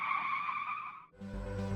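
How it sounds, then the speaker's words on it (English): A car's brakes are slammed and the tires skid in a sharp, high screech, cut off abruptly by a low heavy thud. "He slammed on the brakes."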